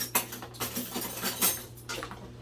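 Metal kitchen utensils clatter and clink in a drawer while a whisk is grabbed, with a few sharp rattles and scrapes at close range and no talk.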